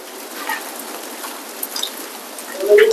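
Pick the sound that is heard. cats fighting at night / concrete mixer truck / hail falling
hail falling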